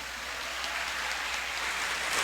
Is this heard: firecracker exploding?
no